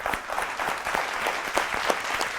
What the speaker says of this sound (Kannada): ಅವ್ರಿಗೊಂದು ಜೋರು ಚಪ್ಪಾಳೆ ಕೊಡೋಣ.